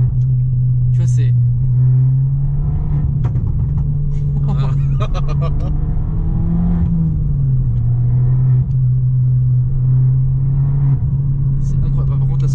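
Abarth car driving in sport mode around town, a steady low engine drone that rises and dips slightly with throttle, heard from inside the cabin while someone talks over it.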